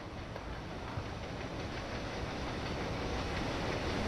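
Hopper wagons rolling on a train in the video game Train Sim World 6, a steady loud rumble of wheels on rail with faint clickety-clack, continuous throughout with no talking.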